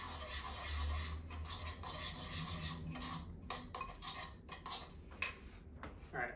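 A spoon scrapes and rubs steadily around a small bowl, mixing a tablespoon of ingredients into a paste for a lime curd pie, with close, quiet rasping strokes and occasional light clinks.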